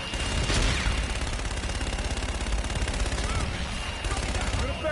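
Rapid automatic gunfire in the video game Call of Duty Infinite Warfare, dense continuous bursts of shots filling the whole stretch at high volume, with speech mixed in underneath.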